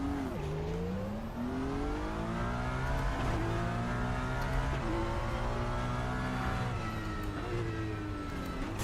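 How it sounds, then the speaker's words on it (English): A DTM race car in RaceRoom laps the Nordschleife 24-hour layout, its turbocharged engine droning loudly and steadily, rising through the revs with several gear changes. "I think I would slightly prefer the sound of the RaceRoom cars"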